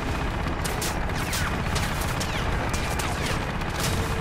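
Rapid automatic gunfire with heavy recoil in the video game Crysis, loud and unbroken, shots crackling densely over a continuous roar for the whole stretch.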